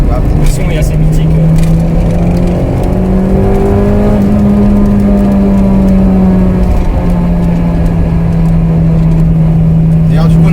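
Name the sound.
Honda Integra Type R 1998 1.8l V-TEC engine revving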